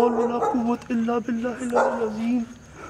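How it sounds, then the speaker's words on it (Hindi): A dog gives a series of short, tonal barks and yips close by, in a broken rhythm with brief pauses, while people speak around it. "भाई अब भौंका है। हाँ, अब भौंका है।"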